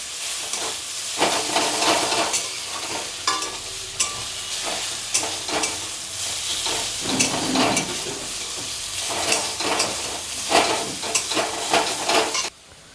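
Food sizzling and frying in a pan while chow mein is cooked at home, a steady close hiss broken by repeated scraping stir strokes and occasional clinks of utensils against the pan.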